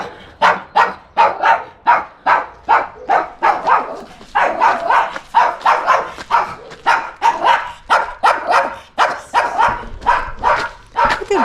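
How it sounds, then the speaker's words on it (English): A small dog in a quiet seaside village in Greece barks in a rapid, insistent run of sharp yaps, about two a second, loud and close, with an occasional whimper and no clear talk. "vicious little dog, huh?"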